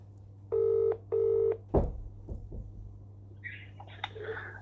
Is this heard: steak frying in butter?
no